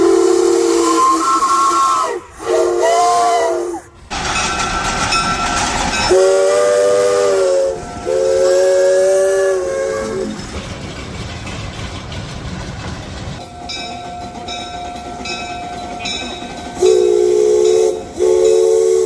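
Basement-built steam engine running, with loud, shrill steam whistle blasts, hissing steam and rumbling chuffing in bursts across the clip, heard close up without talk.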